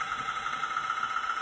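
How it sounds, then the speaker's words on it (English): A model locomotive sound unit gives a steady, moderately loud mechanical engine drone with a fixed tonal hum. It holds at one level throughout, with no audible rise in revs. "I want to show you how it revs up and down"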